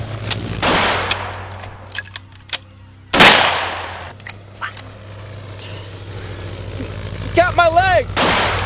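Rifle gunfire in a dramatic action film, with sharp loud shots near 0.3, 3.2 and 4.7 seconds among scattered impacts, one big blast followed by a rumbling tail, and shouting voices mixed in.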